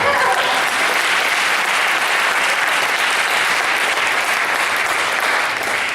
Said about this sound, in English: let's give him some applause